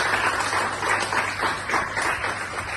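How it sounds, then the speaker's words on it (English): Steady audience applause at a stand-up comedy show, a dense continuous patter of many hands clapping throughout at a fairly even level, with no voices standing out. "Can we give him a huge round of applause?"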